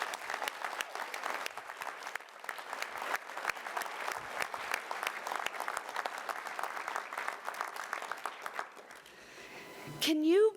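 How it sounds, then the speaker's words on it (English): At a Reno State of the City address, an audience delivers a long round of applause, dense clapping with distinct individual claps, tapering near the end before a brief rising tonal sound cuts in. "Please stand for a huge round of applause."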